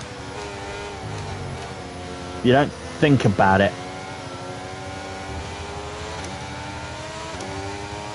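A racing car engine drones steadily in the cabin at close range throughout, with a brief surge of louder revving in the middle while a voice talks over it.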